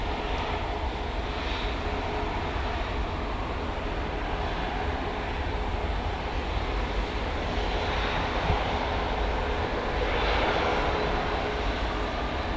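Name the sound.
airliner taking off at DFW Airport runway 18 left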